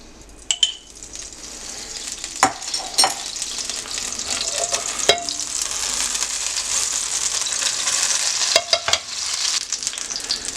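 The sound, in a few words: bread slices frying in sun-dried tomato olive oil in pan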